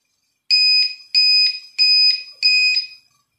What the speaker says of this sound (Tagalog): Naririnig niyo pa rin yung alarm niya.